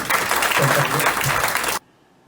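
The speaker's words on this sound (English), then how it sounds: "please give him a big round of applause" A crowd claps for a guest at a Sankara Nethralaya USA meet-and-greet event, a loud burst of dense applause that cuts off abruptly near the end into near silence.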